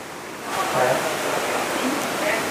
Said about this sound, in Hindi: तो उसके नीचे से पानी जा रही है ना।